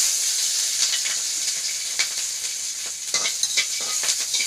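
Radish frying in oil in a village kitchen, a bright hiss with scraping stirring strokes and irregular sputters in the pan, fairly close, with no speech.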